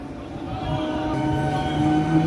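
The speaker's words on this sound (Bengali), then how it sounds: "3 নম্বর প্ল্যাটফর্ম দিয়ে থ্রু ট্রেন যাবে" A through train runs past a railway platform, a steady rumbling roar with tonal hums, loud and close throughout without pause.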